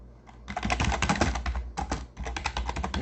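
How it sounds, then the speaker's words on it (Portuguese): Rapid clattering keystrokes on a computer keyboard sitting right on top of a phone, typed in two quick dense bursts with a brief pause between, close and fairly loud, with no talking. "O barulho aí é meu teclado que está bem em cima do telefone"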